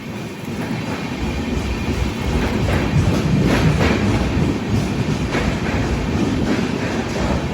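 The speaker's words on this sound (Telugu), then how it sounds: "ఆ బండి వెళ్ళిపోయాక మన బండి బయలుదేరింది." A Netravati Express sleeper train runs along a single-line track, heard from on board as a loud, steady rumble with rhythmic clickety-clack of the wheels that builds slightly and stays constant, with no voices.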